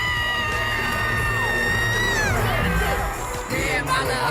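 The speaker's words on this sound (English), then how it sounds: "Hyping the crowd up." A concert crowd at a show cheers and shouts loudly and continuously, a dense roar with whoops and screams over pounding music.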